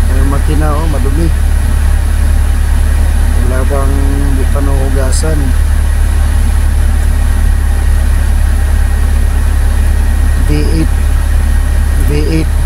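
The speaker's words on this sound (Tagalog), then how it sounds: "V8 diesel engine mga idol ng Mercedes-Benz." A 1997 Mercedes-Benz tractor head's V8 diesel engine, dirty and sitting in a workshop, idles with a steady low rumble throughout, while someone talks intermittently close by.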